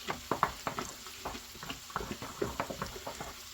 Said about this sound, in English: We'll stir this in.